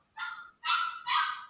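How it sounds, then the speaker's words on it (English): A puppy gives three high, yappy barks with short gaps between them, each bark a little drawn out. The barks are close and fairly loud, and no one talks over them. "the puppy is making some noise there"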